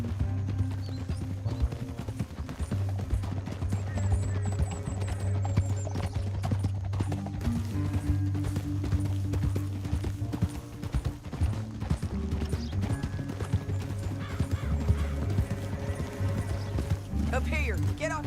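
Horses gallop with rapid, rhythmic hoofbeats over a dense, loud soundtrack in the video game Red Dead Redemption 2, with voices and mechanical clatter mixed in.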